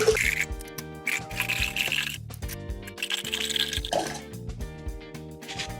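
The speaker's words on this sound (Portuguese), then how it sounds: "vamos colocar aqui água com gás" Sparkling water is poured into a beaker, with splashing and fizzing running alongside prominent background music throughout.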